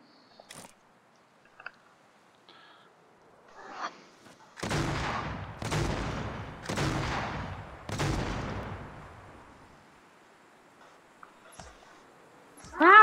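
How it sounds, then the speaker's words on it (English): Several heavy, booming gunshots or blasts ring out one after another with long echoing tails, preceded by faint scattered clicks, in the video game Fortnite. "Do you hear gunshots coming near him?"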